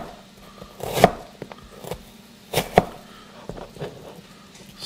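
A knife chops an onion in a few sparse, sharp strikes, one single cut and then a quick pair, close and fairly quiet, with faint kitchen noise between.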